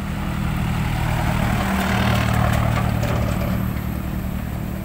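A Komatsu PC200 excavator's diesel engine runs at a steady low idle, a continuous deep rumble with a slight swell in the middle, heard alone without any voices.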